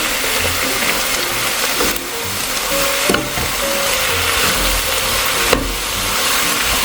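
Brown mushrooms sizzle loudly in a pot for bacon and leek soup, a constant crackling fry broken by occasional scraping knocks of a spoon as it is stirred.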